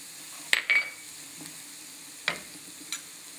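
Stirring a chili-spiced beef mixture in a pot for Vietnamese spicy beef noodle soup, a few sharp scrapes and clinks of the spoon against the pot spaced out over faint background sizzle, fairly quiet.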